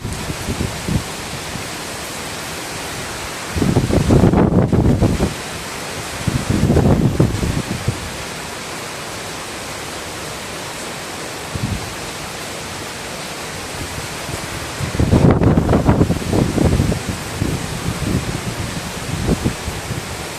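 Heavy rain pours down at the renovated Dragon Tiger Pagodas in Kaohsiung, Taiwan, making a steady, dense hiss throughout with a few louder surging bursts.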